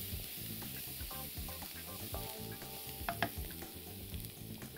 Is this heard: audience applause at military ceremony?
no